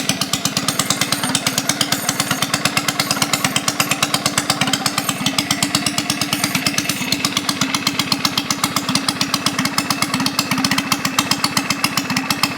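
A custom mini bike engine runs straight piped with no muffler, a loud, close, rapid popping exhaust firing in a steady rattling rhythm throughout, with no talk over it.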